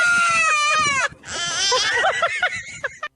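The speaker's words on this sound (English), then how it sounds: "Here's a video of a toddler and a baby goat shouting at each other." A young goat's wavering bleat and a small child's shrill, bleat-like shouts trade back and forth at close range, loud and high-pitched.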